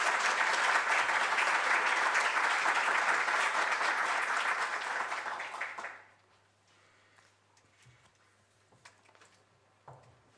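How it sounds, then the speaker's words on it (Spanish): An audience at a national Chinese-language competition final in Chile applauds loudly and steadily for about six seconds, then it cuts off abruptly, leaving a quiet room with a few faint knocks. "un aplauso para ellas"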